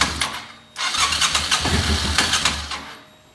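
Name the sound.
motorcycle engine running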